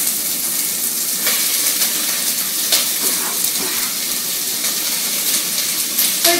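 Enchiladas sizzle in a preheated pan of hot olive oil, a loud, steady, close frying hiss that carries on without a break, with a few small pops and the scrape of stirring.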